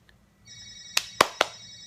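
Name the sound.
telephone ringing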